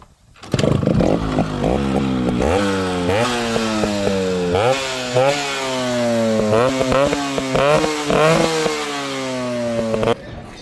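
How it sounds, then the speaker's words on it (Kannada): Exhaust of a two-stroke Yamaha RX100 100cc motorcycle starting up and being revved repeatedly close to the microphone, a loud crackling, buzzy note that climbs and drops in short bursts before cutting off. "ಈ ಗಾಡಿದು ಎಕ್ಸಾಸ್ಟ್ ನೋಡಿ ಕೇಳೋಣ ಬನ್ನಿ"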